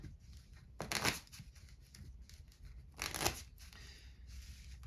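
Two quick riffles of playing cards being shuffled, with soft papery handling sounds between them in a quiet room.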